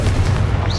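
A Confringo fire-blast spell explodes in Hogwarts Legacy, a short loud booming burst with deep rumble and a rising whoosh at the tail.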